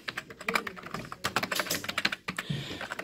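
Rapid, uneven keystrokes clatter on a large-print rubber dome keyboard, close up, in bursts with brief pauses between them.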